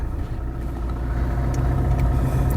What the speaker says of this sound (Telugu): బటన్ ప్రెస్ చేస్తే వెహికల్ అయితే స్టార్ట్ అయిపోతుంది